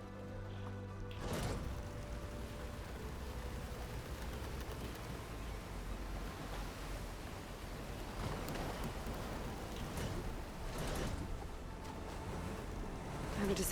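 A boat in Horizon Burning Shores travels across open water, with a steady rushing wash of hull and waves and a wind-like roar that holds at an even level throughout, with a few louder swells.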